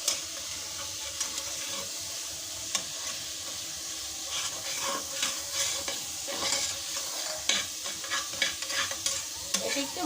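Chicken is stir-fried with garam masala and ground black pepper for a momo filling, with repeated scraping stir strokes over a soft, steady sizzle and no voices.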